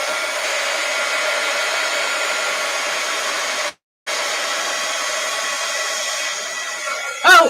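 A heat tool blows hot air onto a stencil in a steady, loud, close whoosh that cuts out briefly for a moment, then resumes and ends with a small clatter.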